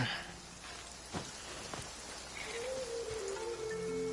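Steady rain falls in Genshin Impact, a constant dense patter and hiss of drops on surfaces, with faint game tones and chimes rising near the end.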